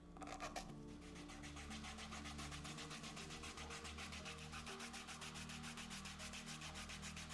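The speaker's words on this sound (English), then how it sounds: "now you would go in with your foot file and begin to break down all that hard skin" A foot file rubs steadily back and forth over heavy, dry hard skin on a foot in quick, even rasping strokes. The sound is close and continuous, over a low background hum, with no talking.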